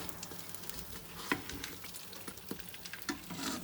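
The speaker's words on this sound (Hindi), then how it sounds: "हल्के हल्के सेक के साथ हम लोग इसको स्लो फ्लेम पर ही फ्राई करेंगे" Chicken kachori frying in oil over a slow flame, a steady soft sizzle with scattered small pops and crackles throughout.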